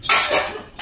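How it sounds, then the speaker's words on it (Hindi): Quick clatter of metal utensils and pots knocking together as dishes are scrubbed by hand in a busy family home, a short close burst of clinks and scrapes. "दो जगह पे बर्तन मांज रही है"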